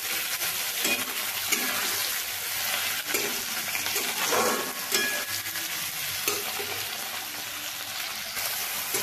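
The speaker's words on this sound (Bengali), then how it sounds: "টমেটো দেওয়ার পরে সবগুলোকে আরও একটু করে আমি ভেজে নেব" Tomatoes and dried red chillies fry in a pan for a fish roe curry, giving a steady, close sizzle with repeated scraping stir strokes throughout and no talking.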